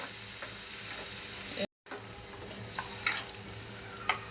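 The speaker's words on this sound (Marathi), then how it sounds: "मसाला लागला पाहिजे व्यवस्थित परतून घ्यायचा" Masala sautéed in a pan for a river clam curry, a steady sizzle with spatula scrapes and clinks, cut by a brief silent gap before the frying resumes up close.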